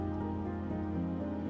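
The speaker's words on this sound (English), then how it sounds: "It's actually raining quite a lot." Steady rain falling heavily outdoors under a gray thundery sky, a constant soft wash of drops on surfaces, fairly faint and continuous with no talk.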